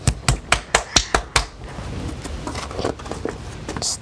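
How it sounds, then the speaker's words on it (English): Hands clap in a quick, even run of about eight loud, close claps, followed by quieter rustling. "Clap your hands to bring"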